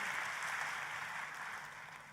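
Applause from a church congregation during a sermon, a steady broad wash of clapping throughout, slowly fading toward the end.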